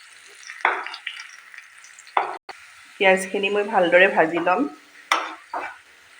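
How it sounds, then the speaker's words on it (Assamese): Onions sizzle faintly in a pan, with scraping and stirring knocks, while a voice speaks briefly in the middle. "পিঁয়াজখিনি মই ভালদৰে ভাজি ল'ম।"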